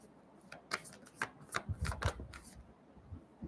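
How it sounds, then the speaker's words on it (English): Sacred Destiny oracle cards being shuffled by hand close up, a series of soft, rapid papery riffles and slaps in irregular bursts, with no talk. "Let me get one or two Sacred Destiny Oracle cards"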